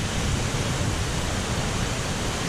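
Waterfall in the basalt cliffs of the Columbia River Gorge, a loud, steady, broadband roar of falling water that holds unchanged throughout.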